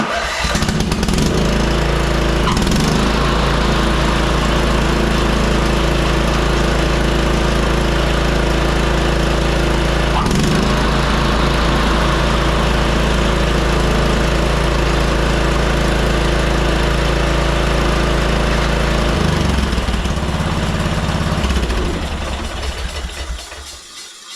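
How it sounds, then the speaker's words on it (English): A Craftsman 30-inch R1000 riding lawn mower engine running steadily at close range with a droning hum and whirring blade that won't stop from a faulty brake, continuous for the whole stretch, no talking. "Definitely our blade's still spinning, so we've still got some issues with that brake going on."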